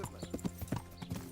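Hooves of a horse in the medieval video game Kingdom Come: Deliverance, clip-clopping in a steady walking rhythm, close and clear, with no voices.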